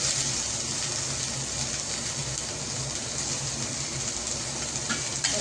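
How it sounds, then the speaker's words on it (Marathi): Grated coconut, garlic and tomato fry together in a hot pan for Puneri misal masala, giving a loud, steady sizzle with a constant hiss and crackle throughout and no talking. "लगेच सगळं एकत्र फ्राय करायचं."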